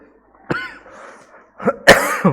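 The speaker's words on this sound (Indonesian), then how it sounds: "Mohon maaf agak batuk-batuk ya" Two bursts of coughing from a person close by, a single harsh cough and then a quick pair of coughs after a short pause.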